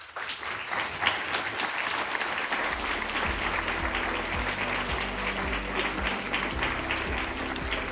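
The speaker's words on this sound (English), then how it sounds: "give a loud round of applause to all these people who helped us get to where we are now" Graduating class and audience at the Duke-NUS Class of 2023 graduation and hooding ceremony clap together, a loud sustained roar of applause filling the hall, with a low musical hum entering partway through.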